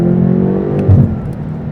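A BMW M8 Competition coupe in sport mode accelerates hard to merge onto a highway, heard from inside as a deep, loud engine drone that swells briefly midway.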